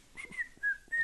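A person whistles a short melodic phrase, a few clear sustained notes with brief breaks between them, close and fairly quiet with no talking.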